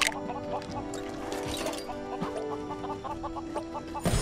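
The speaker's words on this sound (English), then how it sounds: "Some pigs and chickens is what I need right here." Chickens cluck in the Lego Worlds video game, a quiet run of short repeated clucks over a steady game backdrop with faint tonal sounds.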